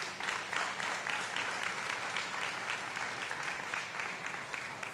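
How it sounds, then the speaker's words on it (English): Sustained applause from an audience at an Illinois education legislation event for a Chicago Public Schools educator, a dense, even clapping that holds at moderate level throughout. "that's worthy of applause."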